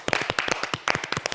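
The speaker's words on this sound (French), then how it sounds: "On l'applaudit." Studio audience at a live TV entertainment show claps, a quick run of distinct hand claps close by with no talk over them.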